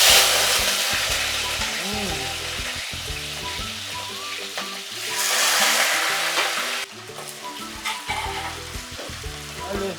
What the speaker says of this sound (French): Je vais récupérer le frétin. Maintenant, on va le frire.